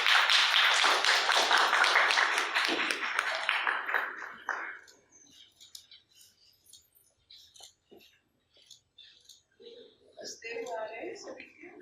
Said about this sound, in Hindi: आप सभी से तालियों का सहयोग।